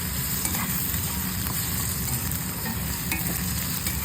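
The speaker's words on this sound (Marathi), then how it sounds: "नंतर आपण याच्यामध्ये लसूण आणि मिरचीची केलेली छान असं परतून घेऊया." Garlic and green chilli paste sautés in a pan with onions and cumin for an okra masala. A loud, continuous sizzle runs under steady stirring and scraping for the whole stretch.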